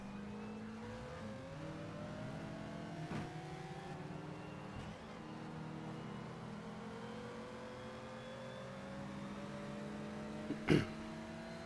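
An underpowered car's engine in the racing game Shift 2 Unleashed, climbing and dropping in pitch across several gear changes, a steady droning rev with a brief sharp knock near the end.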